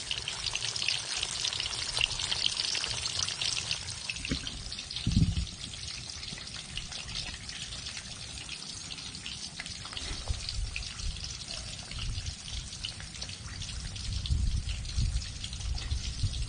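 Steady crackling and sizzling of bluegill fish frying in hot oil in a wok, a dense bubbling hiss throughout with a brief louder pop midway.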